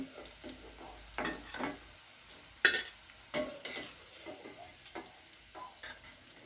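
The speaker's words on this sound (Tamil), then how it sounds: "இந்த அளவுக்கு வதங்கினா போதும் கசப்பு இருக்காது" Bitter gourd sautéing in oil in a pan for Chettinad-style kara kuzhambu, a soft, faint sizzle broken by occasional louder spatula scrapes and stirs, close by with no talking.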